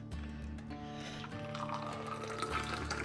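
Liquid pours messily from a container, splashing steadily and close by for a few seconds with faint kitchen sounds around it.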